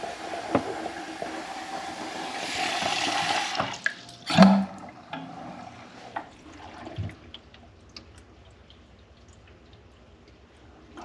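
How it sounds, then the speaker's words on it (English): Water runs into an air conditioning unit being filled to check for leaks, a steady rushing flow that swells for a few seconds, then stops with a clunk, leaving faint knocks and drips. "I like to fill it up with water and make sure it's not leaking."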